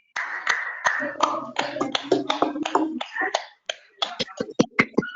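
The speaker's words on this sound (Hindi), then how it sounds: "अर्पित के लिए तालियां बजाओ बच्चों।" Students in a classroom clap for a classmate, sparse, uneven hand claps that sharpen into distinct bursts, mixed with a teacher's speech at the start.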